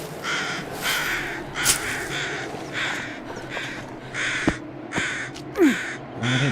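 Several crows caw repeatedly outdoors, a series of harsh calls in irregular bursts, some close and loud, others fainter, with no talking.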